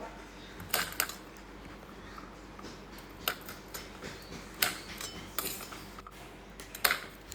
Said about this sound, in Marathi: तर आपण हे सुकामेवा इथे कापून घेणार आहोत